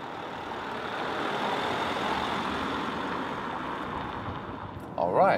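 Steady engine and road drone from a Honda CR-V compact SUV with a 1.6 liter diesel, driving on the motorway, fairly loud and constant, with a brief louder knock near the end.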